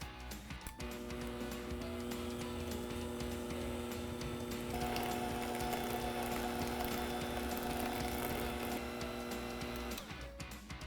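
Blender whirring steadily through Milka Oreo cake cream, a loud continuous motor hum with a strained tone that shifts partway through, alone without talk.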